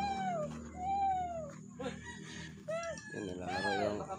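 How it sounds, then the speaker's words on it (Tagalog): A chicken gives a string of short, gliding clucks and calls nearby, with people talking faintly underneath. "Manok ko, ayan."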